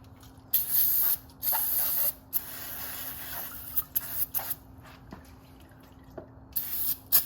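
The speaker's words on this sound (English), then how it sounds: "Then I like to spray everything down with brake clean really quick" Brake cleaner aerosol hisses onto a Honda CRF 230L motorcycle engine in several close, loud bursts of varying length, with brief pauses and a few faint drips between sprays.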